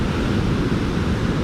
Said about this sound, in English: And these waves are huge too, but there are no surfers.